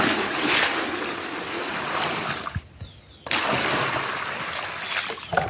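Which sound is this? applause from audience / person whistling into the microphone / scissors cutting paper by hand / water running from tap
water running from tap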